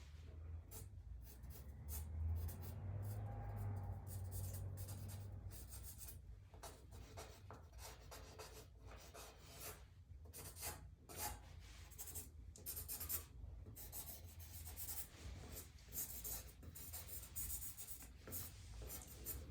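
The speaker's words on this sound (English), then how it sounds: "Now I'm going to grab my pencil and I'm going to draw a horse here." Graphite pencil pressed firmly across paper while sketching a horse, a steady close scratching and rubbing with quick stroke bursts running continuously, no voices.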